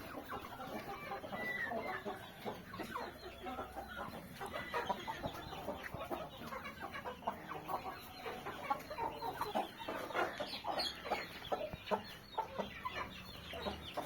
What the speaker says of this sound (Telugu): చాలా పెద్ద రేంజ్కి వచ్చి కోళ్ళు అండి. పెట్టలు కూడా చాలా హెవీ క్వాలిటీ